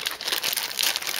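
Plastic packaging for Bandai Spirits anime figures crinkles steadily as it is rolled up, a close, continuous crackle lasting about a second with no voices.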